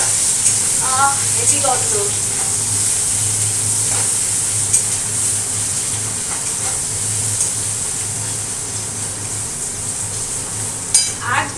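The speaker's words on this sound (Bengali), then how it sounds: "দিয়ে দিলাম আদা আর রসুন ফোড়নে।" Ginger and garlic tempering in hot oil give off a steady, close sizzle and hiss that runs the whole time, with a brief spoken remark near the start.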